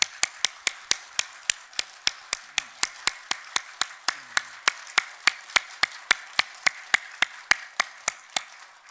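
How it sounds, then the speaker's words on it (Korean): A church congregation at a Thanksgiving service claps in unison, sharp, evenly spaced claps of roughly three per second, sustained and steady for almost nine seconds with nothing else heard. "우리 하나님께 크게 영광의 박수를 칩시다."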